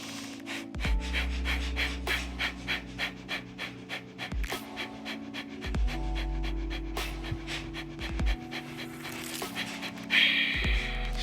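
Rapid, rhythmic breathing exercise: quick forceful breaths pulse in a steady, repeated pattern, close and clear, over a soft sustained tonal backing.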